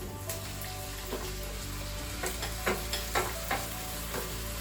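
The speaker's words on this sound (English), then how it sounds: "all we have to do now is wait for the lamb to turn brown" Lamb and onions brown on the saute setting of a Crockpot Express, a steady close sizzle broken by several scraping stirs and soft spatters, with no voices.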